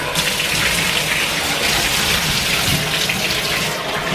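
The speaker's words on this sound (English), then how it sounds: "You were supposed to be starting the water." Tap water gushes steadily into a bathtub as it fills, a continuous close splashing rush with no pauses.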